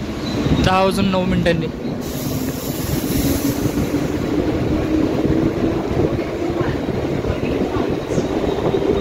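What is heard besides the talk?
Mumbai local train departing Churchgate station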